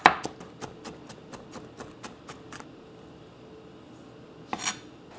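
A knife chopping five or six garlic cloves on a cutting board for Korean seaweed soup with mussels gives a quick run of about a dozen sharp, close taps. A pause follows, then one louder knock near the end.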